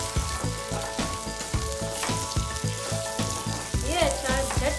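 Chopped raw mango with asafoetida and nigella seeds sizzling and frying steadily in a hot pan for a mango pickle, a dense crackling hiss with stirring clatter throughout, no talking.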